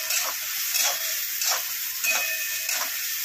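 Turmeric and chilli frying in hot oil in a pan for a potato dish, a steady close sizzle with faint stirring scrapes recurring every half second or so, no voices.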